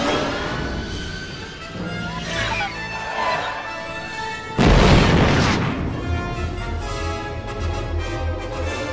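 Canisters are fired and explode during the Star Wars space chase, with whooshing engine noise building to a sudden heavy blast near the middle, then a deep rumbling roar that carries on underneath to the end.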